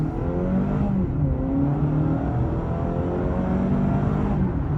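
A 2023 Honda CR-V Hybrid's gas engine revs hard under full throttle from a stop, a steady rising drone with simulated gear shifts that drop the pitch and climb again, heard from inside the cabin.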